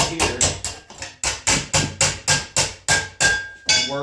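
A metal panel for a Tri-5 Chevy's radiused wheel well is hammered on an old piece of rail, with about a dozen loud, ringing blows in a steady, even rhythm, close by.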